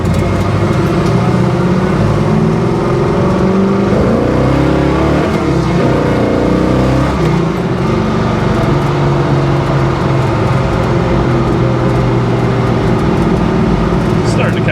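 A 1971 Chevy Nova accelerates hard with a loud, rising engine roar, its rear tire briefly breaking loose as the revs sweep up and settle, the car close by throughout.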